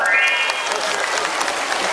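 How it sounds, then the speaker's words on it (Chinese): Audience applause at a live stage event, a dense burst of clapping that stays loud and steady for the full two seconds, with voices mixed in. "拍手"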